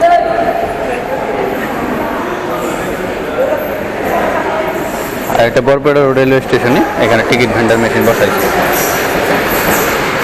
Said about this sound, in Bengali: আর একটা মালগাড়ি পাস হইতেছে এখান দিয়ে।